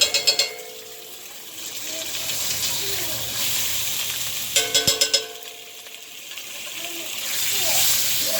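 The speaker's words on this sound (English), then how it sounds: "Stir at the bottom, get all of that off, because all that is flavor." Food sizzling in a cast iron pan as it is stirred, a steady frying hiss with scraping taps against the metal, while a person talks over it.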